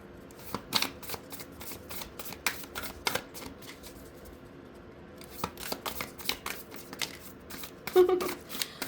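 Oracle cards shuffled by hand for a collective tarot reading, a close, dry run of rapid riffling and flicking bursts with short pauses between, ending with a slightly heavier slap of cards.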